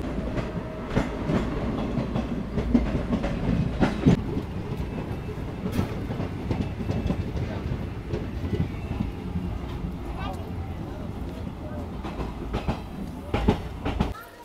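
A delayed passenger express train rumbles along the rails near Buxar in Bihar, its wheels clattering in a continuous rhythmic clack, close and moderately loud throughout.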